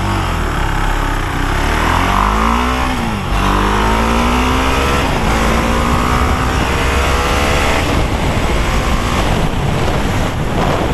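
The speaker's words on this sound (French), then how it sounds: "Petit départ arrêté, 0-100 km/h à bloc." A Husqvarna Vitpilen 701 motorcycle with a 700cc engine launches hard from a standstill toward 100 km/h, its loud engine climbing in pitch through rising gear sweeps, with heavy wind rush and no talking.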